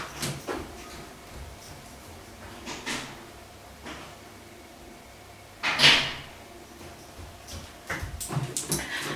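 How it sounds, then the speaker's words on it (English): A cat scratching at a closed indoor door, with intermittent soft scrapes and thumps spread irregularly over several seconds, one louder scratch in the middle, heard nearby with no speech. "my cat is at the door, scratching the door"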